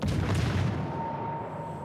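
Warship guns fire in World of Warships Legends: a loud, deep booming salvo that rumbles and fades over almost two seconds, with a faint high tone ringing behind it.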